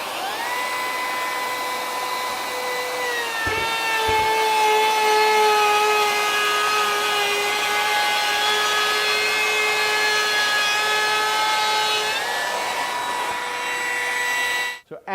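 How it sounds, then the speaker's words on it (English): Kobalt 24V brushless compact trim router with a round-over bit and dust extraction running steadily as a loud high whine, the pitch dipping slightly under load while cutting, then spinning down at the end. "even with the dust extraction on a round over bit like this, you just got so much exposed to the blade"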